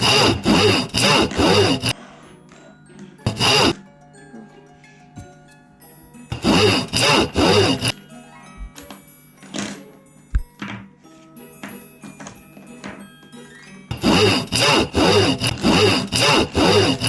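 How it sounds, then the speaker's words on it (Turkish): Rhythmic back-and-forth strokes of a handsaw cutting, in three bursts of rapid rasping separated by quieter pauses with small knocks. "Testereyle onun ayak kısımlarında uzun yerler var."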